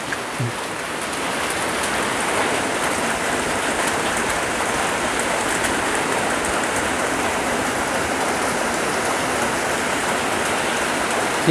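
Heavy rain pours down steadily outdoors in a village, a loud, even hiss of countless drops hitting surfaces that continues without a break and with no voices.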